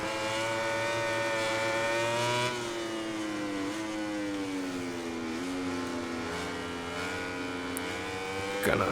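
Racing motorcycle engine from the MotoGP 2020 game, a steady high-pitched whine that drops in pitch around a corner and climbs again while accelerating. It sounds continuous and close, with no talk over it.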